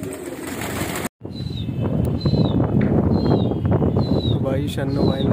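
Kasni pigeons coo and call over and over in a steady rhythm, close by, amid busy outdoor chatter and background noise.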